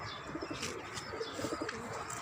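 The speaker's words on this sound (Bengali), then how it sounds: "এদিকে কবুতর আছে," Pigeons coo softly from a coop in a rooftop garden. Several low, throaty coos overlap with light chirps against quiet background noise.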